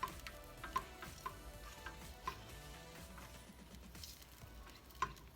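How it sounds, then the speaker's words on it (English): A spoon stirs marinara spaghetti sauce with onion powder in a pot for chicken parmesan, giving soft scraping and gentle bubbling with a few light clinks against the pot, faint and close, with no talking. "And we're going to stir it around up in there real good."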